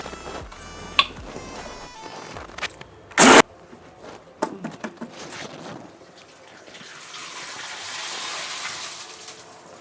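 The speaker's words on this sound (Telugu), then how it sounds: "ఇది మిక్సీ చేద్దాం ఇప్పుడు" A mixer grinder grinding cumin, coriander and chilli for flaxseed spice powder gives one very loud, short burst, then small clatters, then a long, softer whirring hum that builds toward the end.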